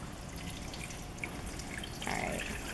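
Water is poured onto a small flood demonstration model, a soft trickle and drip under light background noise, growing into a brighter splashing pour toward the end.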